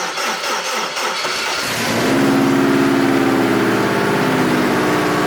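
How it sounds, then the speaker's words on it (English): A Datsun fitted with a Honda K20 engine cranks for a couple of seconds, then catches and settles into a loud, steady idle that carries to the end, heard close with no talking. "first I'm gonna start it while it's not in gear to make sure that it's working"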